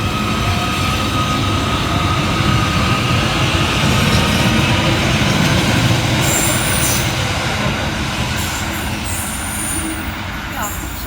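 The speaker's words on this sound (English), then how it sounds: "Next to depart is 777-144, with the 1017 Merseyrail electric service from Liverpool Central through to Headbolt" Merseyrail class 777 electric train pulling out of a station, a steady loud rumble of wheels and motors running throughout, with faint high squeals near the end.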